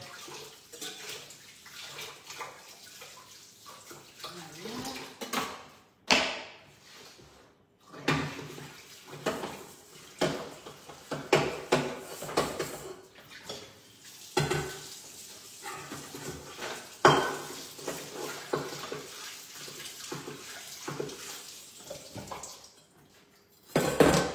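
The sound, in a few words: washing a saucepan in the sink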